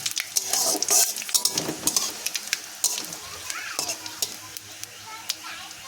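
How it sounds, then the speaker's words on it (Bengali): Panch phoron, dry red chillies and bay leaves sizzle in hot oil in a pan while being stirred, with steady frying hiss and repeated scraping, clinking strokes of a spoon against the metal, close and fairly loud. "এবার আমি এখানে দিয়ে দেব ফোড়ন, পাঁচফোড়ন, শুকনো লঙ্কা, তেজপাতা। দিয়ে একটু ভালো করে নাড়াচাড়া করে নেব।"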